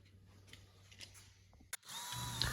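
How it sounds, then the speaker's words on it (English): A power drill whirs into a wooden shelf, pre-drilling bracket holes, a steady high whine after a short click, close and fairly loud. "I'm just pre-drilling here"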